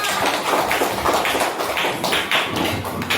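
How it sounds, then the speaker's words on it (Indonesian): Children in a classroom clap their hands together in a dense, continuous patter that stays loud and close, with soft thumps mixed in and no clear talk. "Tepuk tangan untuk kita semua."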